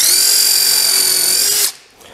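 A power drill whines steadily while countersinking screw holes in wooden deck rails, loud and close, for about a second and a half before it cuts off abruptly.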